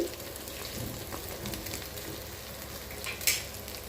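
Paneer fries crisp in a pan with a quiet, steady sizzle and crackle, and a brief sharper pop near the end.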